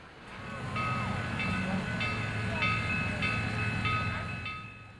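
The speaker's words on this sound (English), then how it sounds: "Sugar steam locomotive number 148, gliding gingerly through the endless curtain of mist" U.S. Sugar steam locomotive No. 148 rolls past in thick fog: a steady low rumble carries regularly repeating bright tonal pulses about every half second, holding fairly loud for the whole passage.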